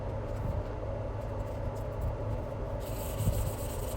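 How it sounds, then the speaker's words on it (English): A Bersa Thunder 380 pistol is sanded with 600 grit sandpaper after its paint has been stripped, giving a steady, continuous gritty rubbing that stays fairly loud and close throughout, with no speech. "And what this sandpaper will do is remove all the scratches."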